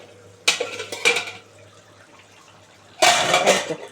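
A lid comes off a pot of boiling potatoes on a kitchen stove, making two separate bursts of close metallic clatter and rattle with a quiet pause between them.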